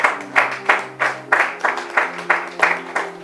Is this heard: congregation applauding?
yes